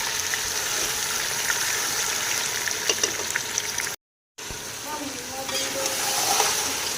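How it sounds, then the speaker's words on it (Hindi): Meat browning in a pan for Kabuli pulao, a loud steady sizzle with occasional stirring scrapes, broken by a brief silent gap midway before the frying resumes. "गोश्त डालने के बाद हम 5 से 7 मिनट तक अच्छे से भूनेंगे इसको।"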